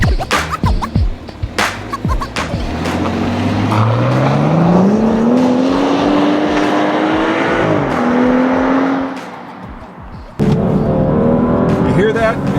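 A 2013 BMW X5 engine in sport mode revving up toward 7,000 RPM, a loud rising engine note that climbs steadily, holds, then cuts off, with a person talking over it.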